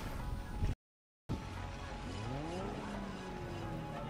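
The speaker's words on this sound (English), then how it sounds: "Do you hear what sounds like a supercar revving?" A car engine in the Forza Horizon 3 racing game hums and revs, its pitch climbing as it accelerates, with a short cut to silence near the start before the engine sound resumes.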